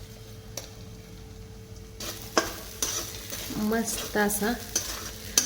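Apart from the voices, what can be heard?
stirring sabudana with red chili powder and peanuts in pan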